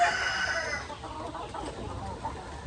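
Breeder chickens on a small farm, clucking and crowing close by in a short, fairly loud stretch that fades slightly, with no talking over it.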